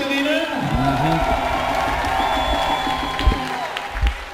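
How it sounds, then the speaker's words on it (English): Spectators cheer and applaud at a women's dodgeball match between Austria and Slovenia at the European Championship, a steady crowd roar with scattered shouts and a couple of louder bursts, under ongoing commentary. "I'm not entirely sure what that was a applause for"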